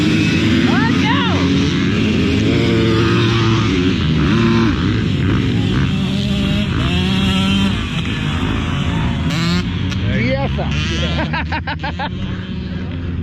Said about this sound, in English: There's so many bikes into that corner.